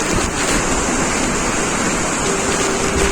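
Waterfall at Gharpi Dhavlar in Sawantwadi pours as a continuous, dense rushing roar, with some wind buffeting the microphone and no voices.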